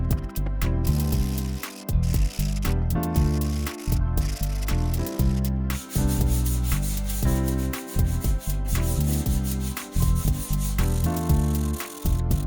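Power sander working the wooden frame of a mid-century modern dresser drawer, a loud, steady rasping hum broken by short pauses and shifts as the sander is moved, running alone throughout.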